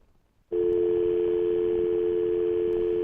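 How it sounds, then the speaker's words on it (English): A loud, steady telephone dial tone begins abruptly after a dropped call and a moment of near silence, and continues unbroken. "Did I just lose a connection with Earl?"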